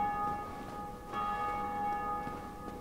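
Church bell tolling in the video game Dark Souls Remastered, with sustained metallic ringing tones that decay and are struck again about midway, set against a faint, busy game background.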